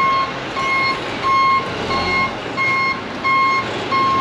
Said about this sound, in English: I just saw truck pull up